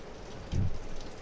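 Rain falls outdoors during a stormy spell, a steady broadband patter with a brief low rumble in the middle of the short stretch.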